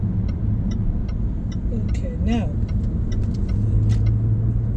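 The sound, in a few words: car driving onto a UK motorway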